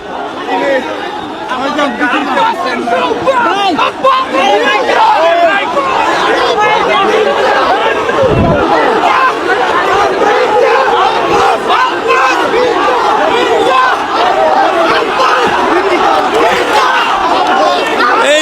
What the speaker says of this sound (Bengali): ঢাকা আট আসনের বিএনপির মনোনীত প্রার্থী মির্জা আব্বাসকে ঘিরে চতুর্দিকে সকলে কিন্তু ভুয়া ভুয়া স্লোগান দিচ্ছেন